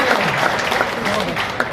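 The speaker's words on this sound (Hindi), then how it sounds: "देखो आप ताली बजा रहे ना" Audience applause at a talk by a blockchain company founder, a brief burst of many hands clapping with a voice speaking over it throughout.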